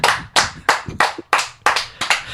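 Audience clapping in short bursts, about seven loud, close rounds of applause, each starting sharply and fading quickly, with brief gaps between them.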